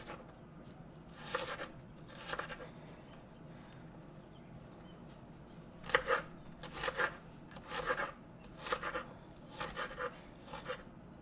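Onion and other vegetables being chopped for cactus tacos, a run of crisp knife strikes on a cutting board coming in two short bursts with a longer steady series later, close and fairly quiet.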